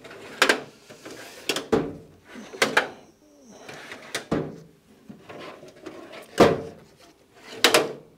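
Workshop drawers are pulled open and pushed shut during a search for chisels in a motorcycle restoration shop, giving about eight sharp wooden slides and knocks spaced irregularly, with faint rummaging clatter between them.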